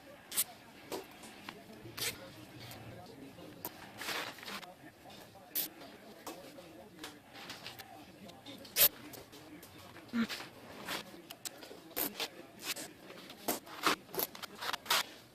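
Zip ties being ratcheted tight around a tubeless tire on a rim, giving short sharp zipping pulls and clicks at irregular intervals, close and crisp over low background noise.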